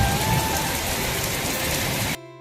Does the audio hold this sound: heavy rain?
yes